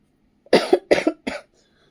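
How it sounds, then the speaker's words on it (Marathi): Three quick, harsh coughs in close succession, close and fairly loud, from a sick woman indoors at home, followed by quiet. "अचानकच खोकला पण लागतोय"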